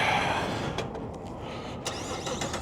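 A car engine cranks and catches in a parking area, then settles into a steady close running rumble with a few sharp clicks over roughly three seconds.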